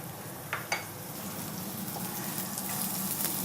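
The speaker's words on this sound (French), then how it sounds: "Alors le gras du lard est dans la poêle et maintenant c'est pour... Alors, les oignons et les échalotes." Onions and shallots frying in bacon fat in a pan give a steady, even sizzle, with a couple of brief clinks near the start, close and moderately loud, and no voices.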